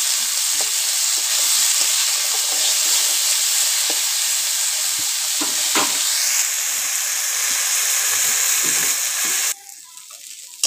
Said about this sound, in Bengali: দেখুন বেগুনটা ভালো করে ভাজা হয়ে গেছে পেঁয়াজ আর বেগুনে